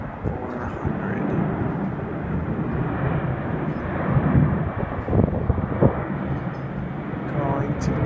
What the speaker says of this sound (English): Takeoff from San Francisco.